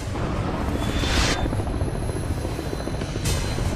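A Marine Corps helicopter flies overhead, its steady rotor thud loud and continuous, with brief swells of higher whooshing as it passes, and no voices.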